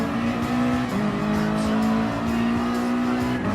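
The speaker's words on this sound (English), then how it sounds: "it is amazing to hear this sound of the Nissan GTR Super GT 500 race car." Nissan GT-R Super GT 500 race car from the 2008 Super GT season in Gran Turismo Sport, its engine holding a loud, steady high-pitched drone with only small shifts in pitch, continuous throughout.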